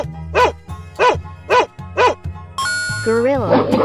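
A cartoon dog barks in a 3D animal slide game, four evenly spaced yelps at a steady rhythm over a low game hum, followed by a bright chime and rising tones.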